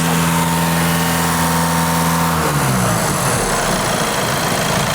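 An Audi A6 diesel engine runs steadily at high revs, a loud near drone that drops in pitch halfway through and settles into a rough rattling idle, with no talk.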